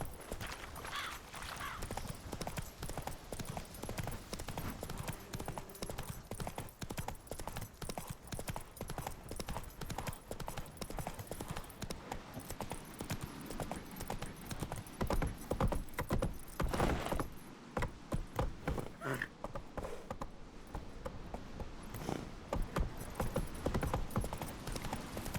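Roach, a horse in the video game The Witcher 3, gallops in rapid, continuous hoofbeats with jangling tack, loud and close for the whole stretch, with a brief snort or whinny and scattered game sounds around it.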